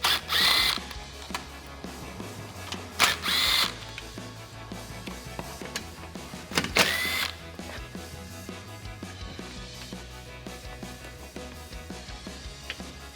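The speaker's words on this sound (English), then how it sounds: "I'm going to use a combination of a clip removal tool and a 7mm socket on my impact to remove the 4 screws and 2 clips on the bottom of the belly pan" An impact driver with a 7mm socket removes belly pan screws under a 2015-2022 Mustang GT, giving three loud rattling bursts of a second or less, separated by quieter handling noises.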